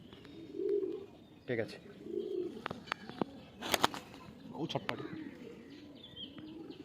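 Adult pigeons at a Sankrail, Howrah loft coo in soft repeated bursts with scattered chirps, while people talk nearby over them.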